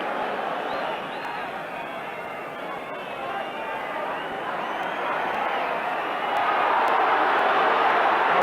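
A 1984 football match crowd at Spurs vs Sunderland roars as a dense, continuous wash of noise that swells louder toward the end, with a commentator speaking over it.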